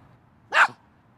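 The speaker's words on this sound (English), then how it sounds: "a loud sound that dogs normally make is called barking" A single short, sharp dog bark, close and clear over a quiet background.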